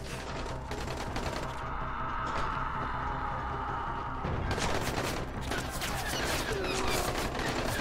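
Rapid, sustained video-game gunfire, a dense stream of overlapping shots that runs almost unbroken and briefly thins before surging again, loud and close.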